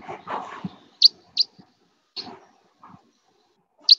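Short, bright type 4 crossbill-type finch call notes with a down-up shape repeat several times with gaps between them, clear and fairly close against quiet, faint background rustle.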